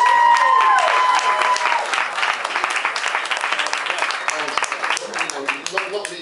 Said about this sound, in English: So that really is another round of applause for Barbara.